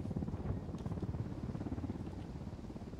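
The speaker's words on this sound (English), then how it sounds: "There's a chopper above me now." Steady low rotor thrum of a helicopter hovering overhead in the video game Ghost Recon Wildlands, a dense continuous rumble filling the whole stretch with no voices over it.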